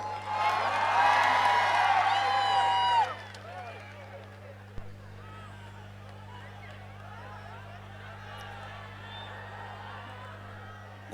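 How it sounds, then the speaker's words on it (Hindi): An audience at a live concert in Srinagar Garhwal cheers, whoops and claps loudly for about three seconds, then the crowd fades to a low murmur under a steady hum. "जोरदार तालियां आप सबके लिए।"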